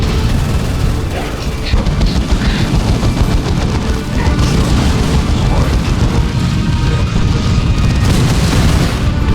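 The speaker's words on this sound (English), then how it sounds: "Orcs are firing on us." Orks fire weapons in a Dawn of War II battle: constant loud booming gunfire and explosions roll on without pause, layered into a thick, heavy rumble.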